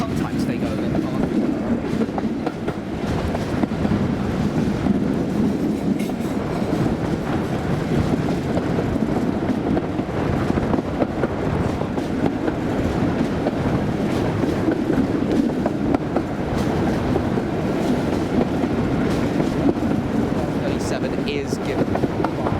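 A heritage railway train runs along the tracks at about 28 mph with a steady rumble and repeated clickety-clack from the wheels, while people talk over it throughout.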